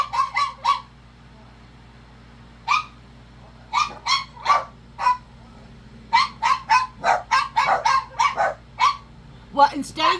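A dog barks indoors in close, sharp bursts. The barks come as a few early yips, then a pause, then a rapid string of repeated barks with brief whimpering tones near the end.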